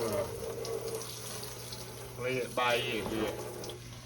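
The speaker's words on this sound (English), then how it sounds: "just add some cold water to this" Cold tap water runs steadily into a bowl of Krusteaz double chocolate pancake mix, a continuous close splashing hiss under a person's talk.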